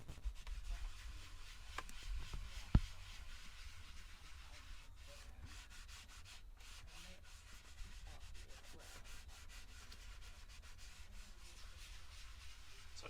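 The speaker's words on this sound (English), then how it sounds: "then we'll remove this with a microfiber towel" Microfiber towel wiping a leather seat in a Kia Stinger after stain removal, a steady soft rubbing and scuffing texture continuing close and quiet throughout, with one sharp tap early on.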